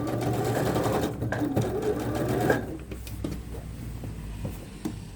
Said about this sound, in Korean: 바이어스 천의 맨 가장자리로 박음질할게요